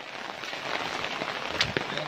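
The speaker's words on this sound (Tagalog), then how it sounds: "Kahit ang lakas ng ulan." Heavy rain during a storm on a muddy, steep rural trail, a dense, steady hiss of rainfall close by with a few sharper drops and splashes, and people talking underneath.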